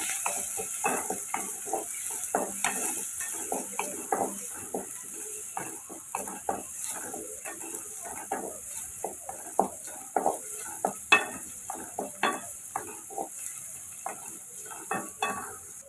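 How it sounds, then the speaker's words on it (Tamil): Shallots, garlic and curry leaves sauté in hot oil in a pan, a steady soft sizzle with frequent clinks and scrapes of a spoon stirring, close and fairly quiet, no talking. "இப்போ இதை கொஞ்சம் நம்ம எண்ணெயில் வதக்கி விட்டுக்குருவோம்"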